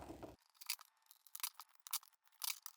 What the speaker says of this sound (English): we're going to get our PVC cutter and just cut them off.